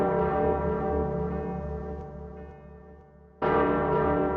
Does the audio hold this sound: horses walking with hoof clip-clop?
no